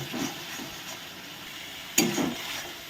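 Spice paste frying in a pan as it is stirred for a potato and egg curry, a steady close sizzle and hiss with a few sharp scraping strokes from the spoon.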